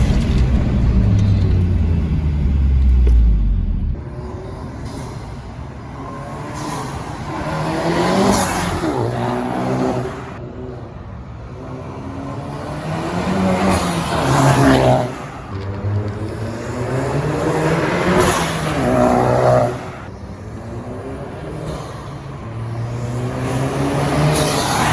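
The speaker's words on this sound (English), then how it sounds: "You hear a lot more turbo spool." A VW GTI with an IS38 turbo and MST intake pulls through repeated hard accelerations, loud engine surges rising and falling with whooshing turbo spool between them.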